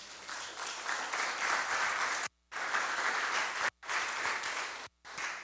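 A church congregation claps in praise, a loud, dense, steady wash of hands filling the room, broken by a few abrupt silent gaps.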